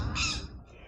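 A crow caws once on a university campus, a short harsh call close by that fades into quiet.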